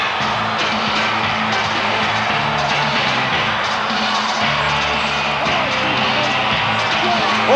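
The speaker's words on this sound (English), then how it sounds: "Listen to this ovation. They're on their feet." A packed Los Angeles Sports Arena crowd roars for wrestler Brutus Beefcake, a steady wall of cheering and ovation that holds at constant volume, with music and voices blended into the din.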